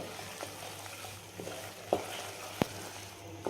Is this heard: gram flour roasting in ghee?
yes